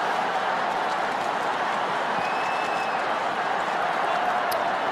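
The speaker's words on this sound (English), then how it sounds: "this crowd are going off" Roaring stadium crowd at an AFL preliminary final between the Crows and the Cats, a dense, steady wall of cheering and noise holding at full volume throughout.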